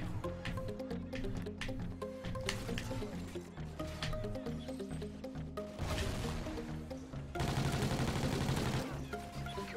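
Gunfire from the first-person shooter Call of Duty: Ghosts in a Kill Confirmed match on the Freight map, dense bursts and shots running continuously under game music and effects, growing louder and harsher in the final seconds.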